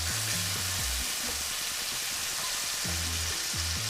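Red lechwe backstrap fries in butter and oil, giving a steady, close hiss and sizzle, with a low, humming voice-like tone in places underneath.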